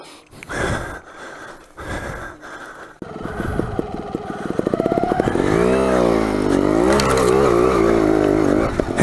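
A trials motorcycle climbs a steep off-road slope at Bulldog Canyon, Arizona: a few quiet clanks at first, then the engine barks up close and revs hard and wavering as it claws uphill.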